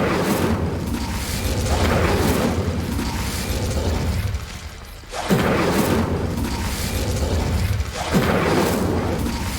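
The Incendio fire spell in Hogwarts Legacy sets off repeated booming, crackling fiery blasts that come in loud waves, with a brief dip in the middle before another eruption.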